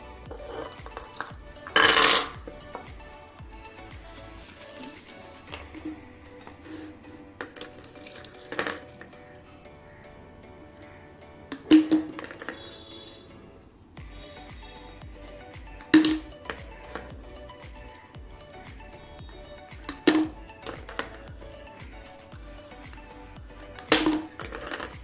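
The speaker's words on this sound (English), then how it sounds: "Now ask your child to pick a marble from the bowl with the help of spoon and put it into the bottle." Marbles picked up with a spoon drop one at a time into a bottle, each landing as a sharp clink followed by a short rattle, spaced several seconds apart against a quiet room with faint scraping between drops.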